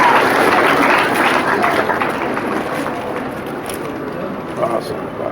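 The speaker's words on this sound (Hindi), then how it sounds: "आप लोग जोरदार तालियों से उत्साहवर्धन करें" A crowd at a birthday bhandara satsang gathering claps loudly and continuously. The dense applause eases slightly toward the end.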